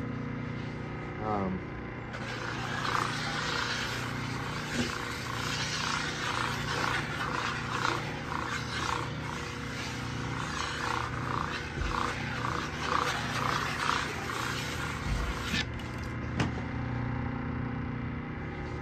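A Grizzly drum sander shapes the edge of a wooden board with a loud, steady abrasive roar that runs for about thirteen seconds, then cuts off, with the motor hum underneath throughout.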